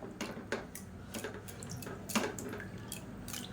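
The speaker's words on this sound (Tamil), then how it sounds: "இப்போ இன்னும் கொஞ்சம் தண்ணி சேர்த்துக்கலாம்." Water trickling and splashing into a pot of moong dal and sago payasam as it cooks, a steady close pour with a few louder drips.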